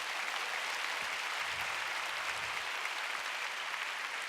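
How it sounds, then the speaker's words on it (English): Church congregation clapping in a sustained, dense burst of applause that stays steady and fairly loud throughout, with no clear voices over it. "Let's give the Lord a big hand clap,"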